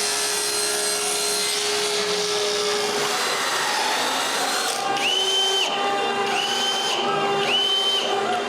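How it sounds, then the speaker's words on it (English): A power drill drives screws through a plywood base into a 2x4 in a woodworking shop, whirring over a constant loud background hum, with a few short rising bursts near the end. "I cut some plywood for the base and screw it onto the 2x4."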